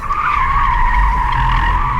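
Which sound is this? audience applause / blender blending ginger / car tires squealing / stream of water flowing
car tires squealing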